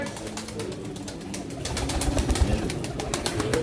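Pigeons coo softly at a pigeon auction in Çorum, their calls blending into a constant murmur of crowd noise and rustling.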